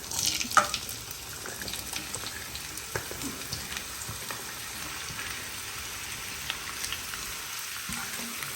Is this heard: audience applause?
no